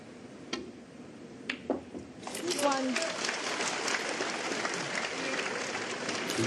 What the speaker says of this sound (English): you can hear the big cheer from his supporters